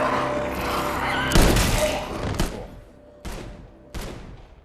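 Gunfire in The Last of Us TV episode: a dense burst of loud shots, then several separate sharp bangs spaced apart, with a rumbling background fading between them.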